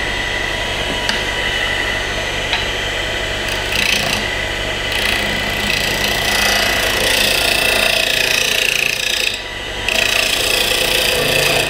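A wood lathe spins a turned wooden kendama ball while it is trued up, giving a continuous, close scraping and rasping whir with brief dips in loudness.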